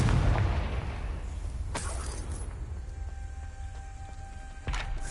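A Confringo blasting spell goes off in Hogwarts Legacy, a loud burst near the start followed by two more sharp cracks around the middle and end over a low, steady game rumble.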